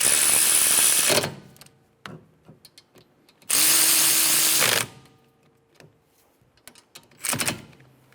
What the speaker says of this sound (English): Put in the caliper bolts. Snug them down.